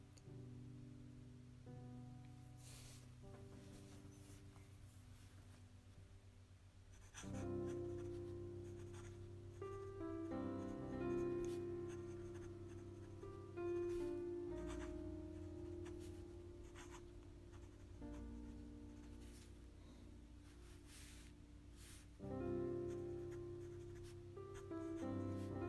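A Moonman M6 fountain pen with a fine nib scratches softly across paper in short strokes, faint and close, over a low background hum without talk.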